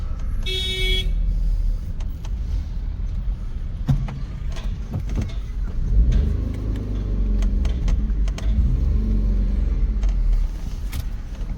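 A car idles and moves at low speed while being pulled into a shady spot and parked, with a low steady engine rumble, a brief high beep near the start, and small clicks and thumps from the vehicle.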